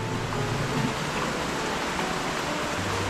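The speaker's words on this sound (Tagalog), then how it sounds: "Oo, maghapon na yung ulan." Steady rain falling, a dense, even hiss of drops with no pauses, close and constant throughout.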